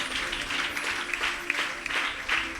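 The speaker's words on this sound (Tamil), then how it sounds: "கைத்தட்டி கர்த்தரை மகிமைப்படுத்துவார்" A church congregation claps hands in praise to the Lord, a dense, steady, rhythmic clapping close by with faint tones underneath.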